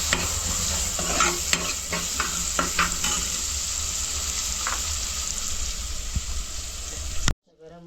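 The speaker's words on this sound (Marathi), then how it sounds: "आता कांदा घालून घेते. कांदा पण ढवळून घेते." Onion dropped into a hot pan of dal and vegetable curry and stirred, a close sizzle with clattering spoon scrapes early on that settles into a steady frying hiss before cutting off abruptly, with a brief voice at the end.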